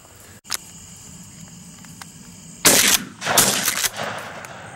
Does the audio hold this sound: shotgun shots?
yes